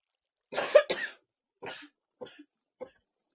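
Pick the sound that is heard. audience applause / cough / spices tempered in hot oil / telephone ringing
cough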